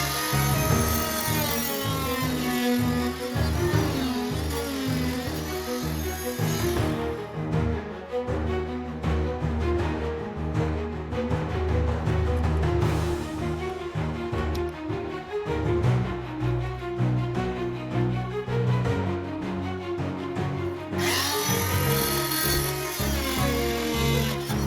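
A power tool whines and grinds steadily while trimming the edge of a plaster and lath wall for an electrical box, loud and close, with the pitch shifting as the blade bites and eases off.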